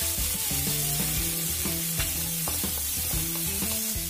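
Soaked chickpeas hitting hot oil with chili flakes in a garlic vegetable stir fry, a steady close sizzle with sharp stirring clicks, over a soft tonal melody running underneath.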